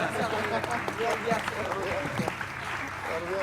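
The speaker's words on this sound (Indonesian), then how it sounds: "Give her a round of applause" Studio audience applause on an Indonesian television talk show, a steady dense patter of clapping with voices and crowd noise mixed in throughout.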